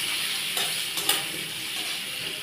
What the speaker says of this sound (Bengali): আলু দিয়ে আমি একটু ভাজা ভাজা করব